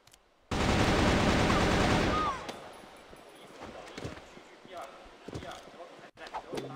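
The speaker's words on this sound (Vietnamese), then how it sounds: "một pha đấu súng đi qua cửa mid, một pha đấu súng không thực sự hợp lý và không thực sự cần thiết." A burst of rapid gunfire from a CrossFire competitive match fight through the mid door, loud and dense for about two seconds, then quieter scattered shots and game noise follow with a voice in the background.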